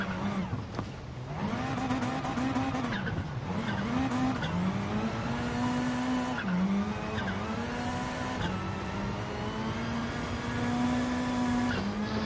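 A rally car in GT Sport holds a sustained engine drone that rises and falls with throttle, with tires squealing and skidding through handbrake slides, loud and continuous with no voices.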